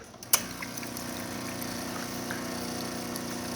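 Hot water runs from a Nuova Simonelli Musica espresso machine: a quiet click, then a soft, steady flow over a low pump hum, faint and constant throughout.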